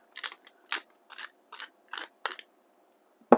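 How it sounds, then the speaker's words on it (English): Salt and pepper cracked into a lemon pork cutlet and Greek salad dish by a hand grinder: six quick bursts of gritty crunching in a steady rhythm, close and fairly loud, with no talk. "I'm going to crack some salt and pepper in."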